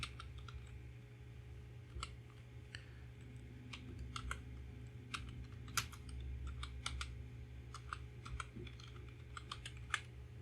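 Rapid, irregular clicks of typing on a computer keyboard while entering product names into an Excel sheet, close and fairly quiet over a low steady hum, with no talk.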